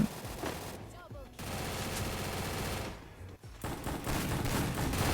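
Rapid bursts of gunfire in a shooting video game, dense fusillades with a brief quiet gap near the middle and again around three seconds, loud and close, with some voice faintly mixed in.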